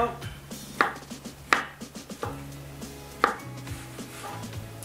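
A knife chops ingredients into small pieces on a cutting board while preparing shrimp and soy filo pastry rolls, with sharp irregular taps spaced about a second apart and quiet background between them.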